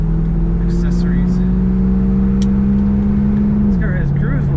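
1982 Chevrolet Corvette Collectors Edition accelerating, a steady loud engine drone heard from inside the car that holds its pitch and then drops as the gear changes, with faint voices in the background.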